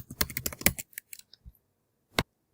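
A computer keyboard is typed on at close range, with a quick run of crisp keystrokes followed by a few scattered taps and one final key press.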